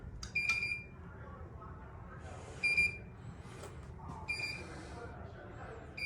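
Short electronic beeps sound in repeated bursts inside a Star Wars: Galactic Starcruiser standard cabin as the viewport shade lowers, high and bright over a quiet room hum, with people talking faintly underneath.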